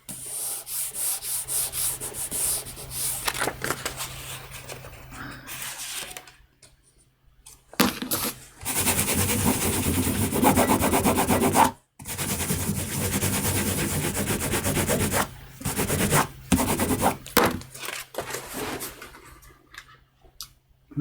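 A printmaker rubs by hand on paper to emboss a Japanese woodblock print, a close, dry scraping that comes in repeated strokes with short pauses between them.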